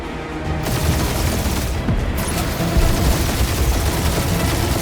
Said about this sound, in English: feel free to point the guns right at him and charge.